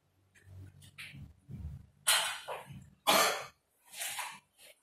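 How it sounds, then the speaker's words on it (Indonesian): Several sharp, close coughs in a row, with a few softer throat-clearing sounds in between. "Sorry ya, saya lagi batuk ya."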